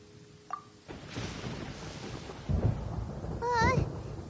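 Thunder rumbles through a Genshin Impact storm scene, a broad low roll building over a few seconds alongside brief game tones and chimes.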